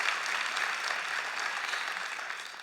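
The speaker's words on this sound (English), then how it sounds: "Let's give them all a round of applause." A crowd at a Let's Move! campaign launch anniversary event claps steadily for performers, a dense even wash of applause heard alone at moderate distance.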